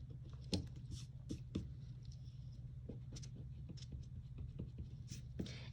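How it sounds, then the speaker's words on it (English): A pencil eraser rubs out excess lines on paper while drawing doors and windows, with faint, quick scratchy strokes in short bursts over a low steady hum. "so I'm going to go ahead and erase those"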